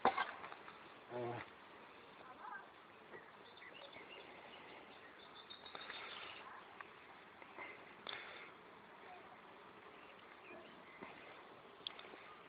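Honeybees buzz faintly around their hive, a soft, steady drone with a few louder passes close by and otherwise low, even background hum.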